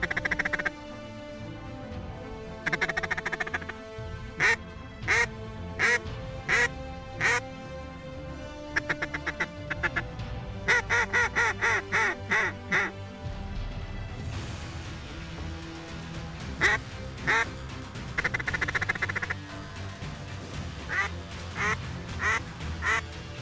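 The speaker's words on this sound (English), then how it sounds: "There's some more ducks coming." A flock of ducks comes in over a waterfowl hunt, quacking loudly in rapid repeated runs of calls that rise and fall in bursts over a constant outdoor background.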